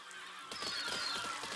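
Birds squawking and honking inside the Besiege physics game, a burst of goose-like calls that starts about a third of the way in and keeps going over a steady background of game noise.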